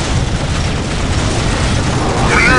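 A cannon fires during a chaotic battle with the Orks in Warhammer 40K Dawn of War Soulstorm, a dense, booming blast thick with low rumble and rattling mechanical noise that carries through the whole moment.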